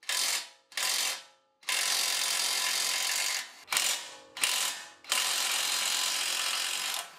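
A pneumatic impact wrench on its highest setting rattles off bolts on a GR Corolla during a lowering spring install, in several bursts, short ones first and then long sustained hammering runs, close and loud with no talk.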